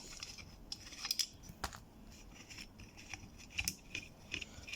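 Bolts being undone from the rear wiper motor of a Volvo 850 T5R, heard as a scatter of sharp, close metallic clicks and ratchet-like ticks against a quiet background.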